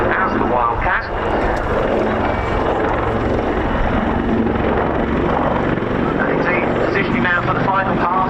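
Wildcat military helicopter flying a display pass at an air show, its steady rotor chop and turbine whine loud and continuous throughout, with a commentator talking over it.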